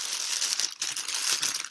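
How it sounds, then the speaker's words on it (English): Plastic bags crinkle and rustle continuously as a cross-stitch sampler chart is unwrapped, a close, steady crackle with brief dips, no talking. "It's in two different plastic bags."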